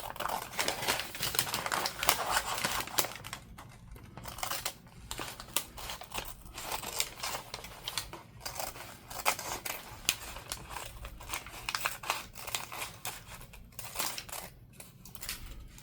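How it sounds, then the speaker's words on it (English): Scissors snipping around scraps of packing paper backed with double-sided tape, a long run of quick crisp cuts and papery rustles with brief pauses, close and fairly loud, no talk. "we're just going to cut around this packing paper"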